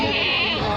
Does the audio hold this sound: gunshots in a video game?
no